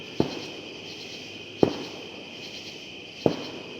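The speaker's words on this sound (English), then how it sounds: "we got someone down in the valley there setting off some fireworks" Fireworks pop three times at even intervals, distant and echoing from down in a valley, over a steady whine of evening insects at an outdoor hammock camp.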